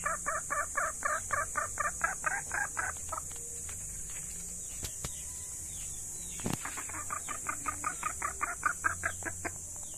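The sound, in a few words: caught labuyo wild junglefowl calling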